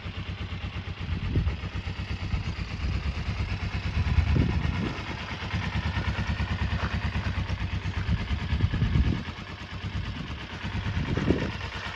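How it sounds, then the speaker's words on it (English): A warm Kawasaki Eliminator EL 250 motorcycle idles steadily up close, an even low thrum with a few brief swells in engine note. "Have a listen to that engine. I think I've got the tick over right now. Now it's warm."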